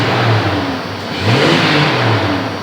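A car engine revs in two rising swells and then settles, loud and close, with no talking over it.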